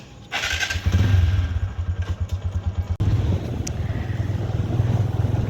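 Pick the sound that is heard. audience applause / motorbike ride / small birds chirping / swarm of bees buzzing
motorbike ride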